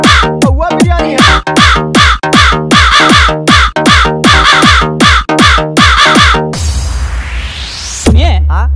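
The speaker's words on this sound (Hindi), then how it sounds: "अच्छा, कौवे का आवाज आ रहा है भाई।" Repeated crow caws in quick rhythmic bursts, loud and close, as part of a comedy song mix, followed by a rising electronic sweep near the end.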